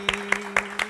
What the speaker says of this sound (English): I also want to give you guys another round of applause